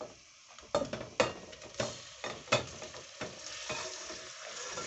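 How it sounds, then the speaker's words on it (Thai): Pork belly and soft bones stir-fried in a pan, with continuous sizzling and a series of clattering scrapes from the spatula at an uneven rhythm, close and fairly loud. "เราก็จะเอาหมูสามชั้นและกระดูกอ่อนลงไปผัดนะคะ"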